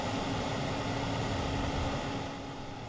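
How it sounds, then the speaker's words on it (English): An airliner's auxiliary power unit in Microsoft Flight Simulator drones steadily at close range, a dense, even whine and roar that eases slightly toward the end. "Let me come back here by the APU so you can listen before we start."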